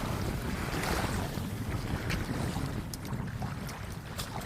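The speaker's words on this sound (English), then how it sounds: "If we're looking at the waves as well as hearing them, does it relax us more?" Ocean waves washing in a continuous rushing roar with heavy wind buffeting the microphone, steady and loud outdoors, with no talking.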